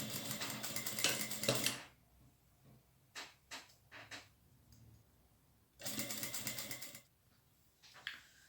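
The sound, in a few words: sewing machine stitching a canoe-shaped bag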